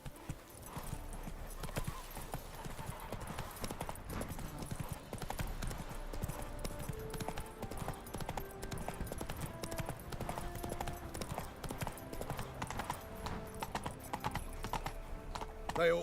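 Steady clip-clop of a horse's hooves galloping through The Witcher 3 game world, a fast continuous rhythm over busy in-game ambience and faint music, with an occasional whinny.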